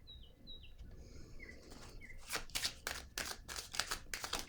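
Cards are laid down with a run of soft, papery slaps and rustles, faint and close. High bird chirps sound a few times beforehand.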